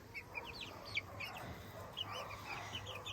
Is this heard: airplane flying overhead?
no